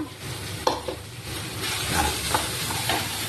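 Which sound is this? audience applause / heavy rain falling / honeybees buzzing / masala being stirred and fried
masala being stirred and fried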